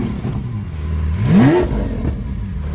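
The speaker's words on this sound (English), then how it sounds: "The IP system is very loud." Lamborghini Aventador Roadster fitted with a loud IP exhaust system revs once on the street, a close engine note sweeping sharply upward before dropping back to a rough idle rumble, with no talk.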